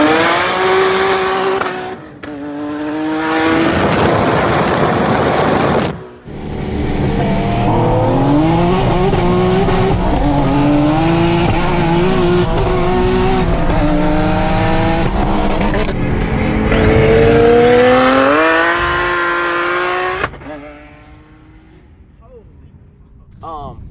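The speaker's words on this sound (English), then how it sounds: "you clearly hear my car just spins" A race car engine screams at high revs as its wheels spin, a long, loud sustained roar with rising and falling pitch that drops out briefly and fades into quieter noise at the end.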